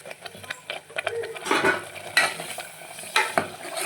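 Ground masala and onions fry in oil in a pan, a soft sizzle with intermittent scraping and stirring strokes from a spoon against the pan, fairly close and moderately quiet.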